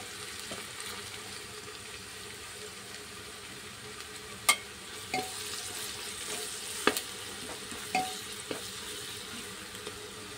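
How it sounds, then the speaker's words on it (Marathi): Curry leaves go into hot oil with browned onion for the tempering of a spicy chana dal varan, giving a steady close sizzle and frying hiss with a few sharp pops and crackles. "आता टाकते कढीपत्ता।"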